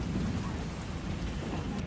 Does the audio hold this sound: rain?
yes